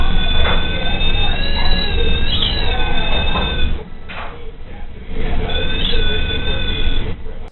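REM pod EMF proximity sensor alarm going off in a room at La Fonda Inn on the Plaza in Santa Fe, a continuous warbling electronic tone with wavering pitch, loud and close, running steadily throughout with only a brief dip near the middle.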